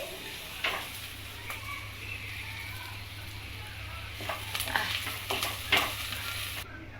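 Onions frying in a pan give a low, continuous sizzle with occasional spatula scrapes and clinks toward the end, heard close under a steady background hum.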